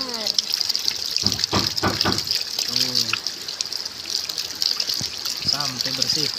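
Tap water runs steadily over pieces of cut chicken being washed at a sink, a continuous close gush and splash while people talk over it.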